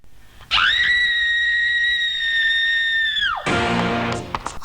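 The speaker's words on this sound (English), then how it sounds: "2 seconds in and we're screaming bloody murder already" A scream in the Burbank animated Dr. Jekyll and Mr. Hyde film, one long piercing shriek held steadily for about three seconds, then breaking into rougher yelling, loud and close.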